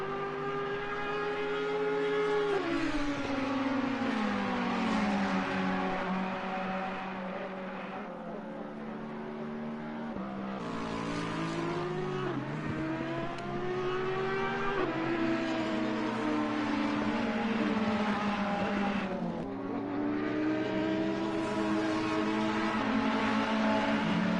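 Ferrari race cars in a racing video game: a loud, continuous engine drone that climbs in pitch and drops back at each gear change, repeating through several upshifts, with no speech.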